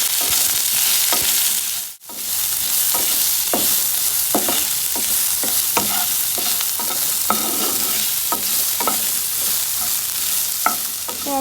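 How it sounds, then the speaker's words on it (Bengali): Chopped onion frying in oil with bay leaves and black cumin seeds for a Bengali rohu fish curry, a steady close sizzle with repeated scraping stirs, a brief pause near the start, no talk. "পেঁয়াজটা আমার হালকা লাল করে ভেজে নেওয়া হয়ে গেছে"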